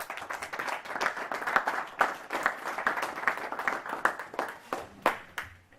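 An audience claps and applauds in a church service, a sustained crowd ovation that runs steadily for several seconds, with louder individual claps standing out near the end.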